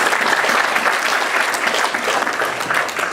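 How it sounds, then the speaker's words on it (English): Dense, loud applause from a youth forum audience, a continuous wash of clapping throughout. "Let's have a round of applause for all of them."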